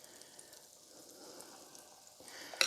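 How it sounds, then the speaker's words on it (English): Cornbread fries in a pan with a faint, steady sizzle and a soft crackle throughout, heard close up and quiet. "can you see this cornbread frying in here?"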